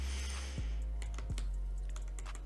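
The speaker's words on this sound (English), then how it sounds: "you want to click S on your keyboard to split it" A few keys are tapped on a computer keyboard while editing clips in Vegas Pro, sharp scattered clicks over a low steady hum, with no speech.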